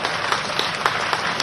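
A crowd at an outdoor development ceremony in Amarkantak claps, a brief dense patter of hands with a few distinct louder claps, steady and moderately loud.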